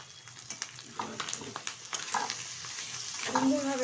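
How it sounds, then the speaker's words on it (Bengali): Cauliflower fries in a pan with catla fish oil and fish roe. A close, crackling sizzle runs throughout, with scattered pops and a brief tonal clink near the end. "সুন্দরভাবে কিন্তু কপিটা তেলের সাথে, মাছের তেল আর ডিমের সাথে ভাজা হয়ে গেছে"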